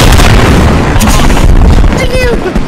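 A tank blowing up in the military shooter Post Scriptum, a loud, close, booming blast that swells and rumbles throughout, with a voice heard under the noise.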